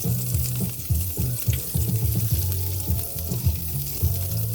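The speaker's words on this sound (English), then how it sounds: "so we do up the shrimp for a little bit" Shrimp fry in a pan for a Pad Thai meal kit, a dense close sizzle with rhythmic low bubbling and scraping of stirring running continuously without pause.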